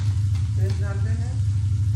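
Finely ground ginger-garlic paste sizzles in a pan of onions, a steady close hiss of frying with a voice talking over it.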